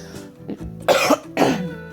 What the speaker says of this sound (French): Alors vous allez m'entendre tousser